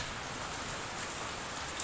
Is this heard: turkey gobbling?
no